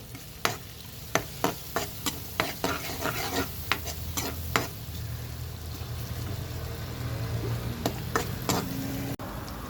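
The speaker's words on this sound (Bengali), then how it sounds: "পেঁয়াজ কাঁচামরিচ ময় মশলা দিয়ে কষাবো এটা।" Onion, green chili and spices sizzle steadily in a hot pan while a spoon scrapes and clacks against it in irregular sharp strikes, loud and close, with no talking.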